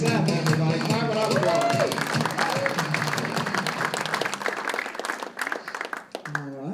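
Comedy club crowd at Morty's Comedy Joint applauding a comic onto the stage, sustained clapping that thins and fades toward the end, with a voice breaking in at the close.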